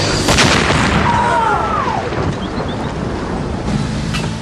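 A grenade blast in a wartime street ambush booms out as a loud, broad rumbling roar, followed by a sustained, noisy wash of debris and wind-like hiss.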